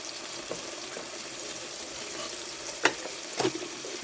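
Spices are stirred into a pan of South Indian boti curry frying on the stove, a soft steady sizzle with a few sharp scraping clinks of the spoon against the pot.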